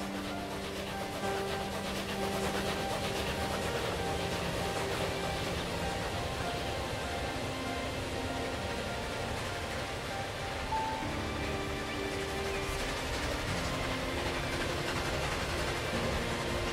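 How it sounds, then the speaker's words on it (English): In Transport Fever 2, a train passes with a continuous rumbling roar and sustained tonal hums that hold steady and loud throughout, with no talking. "So we're just going to enjoy a train moment right now."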